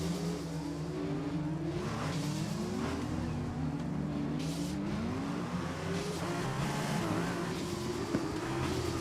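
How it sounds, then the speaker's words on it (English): A Formula 2 car races in the F1 2021 video game, its engine droning steadily with rising and falling revs and a turbo whine, plus brief crackles as it moves at speed. No one speaks. "But you can hear the turbo as well here as well. Jeez, the Formula 2 cars sound like literally something's braking every second."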